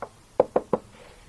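Three sharp knocks ring out on the steel rear bumper of a 2012 Jeep Wrangler Rubicon, evenly spaced and close, after a faint first tap, with no speech.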